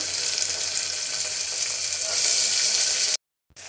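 Onion, curry leaves and dal frying in a hot pan, giving a dense, continuous loud sizzle that holds steady, then cuts out briefly near the end before resuming.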